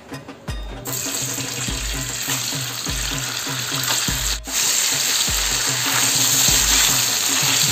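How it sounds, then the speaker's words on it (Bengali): Paneer pieces dropped into hot oil in a wok set off a loud, steady sizzle and crackle that holds right through, with a rhythmic low thumping beneath it. "এখন আমি পনিরগুলো দিয়ে দেবো এই তেলে।"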